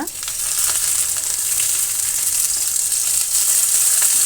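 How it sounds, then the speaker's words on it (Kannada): Okra frying in oil for sambar with toor dal, peanuts and grated coconut, giving a steady, close, loud sizzle that holds evenly throughout with no speech. "ಒಂದು ನಿಮಿಷದ ಕಾಲ ನಾವು ಬೆಂಡೆಕಾಯಿನ ಆ ರೀತಿ ಫ್ರೈ ಮಾಡ್ಕೊಳ್ಳೋಣ"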